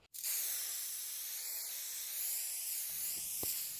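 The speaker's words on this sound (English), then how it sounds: "Up first is the All Day Tight Makeup Setting Fix by So Natural." A So Natural All Day Tight Makeup Setting Fix mist sprays in one long continuous close hiss, with a faint tap near the end.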